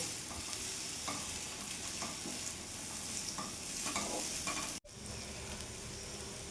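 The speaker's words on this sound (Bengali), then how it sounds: "এবার ভালো করে মিশিয়ে নেব।" A spatula stirs spices through a frying pan of egg and pointed gourd, scraping and clinking steadily over a constant close sizzle, with one brief dropout partway through.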